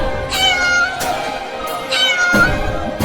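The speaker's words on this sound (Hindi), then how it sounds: "लगता है वो इस बिल्ली के बच्चे की माँ है।" Angry mother cat in a cartoon, giving several loud, drawn-out meows close up, with no talk over them.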